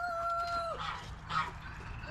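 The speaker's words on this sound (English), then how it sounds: "Geese down there, reason they're fussing." Farm geese fuss for their water with a few brief, nasal honking calls in the first half, fairly close against a low background hum.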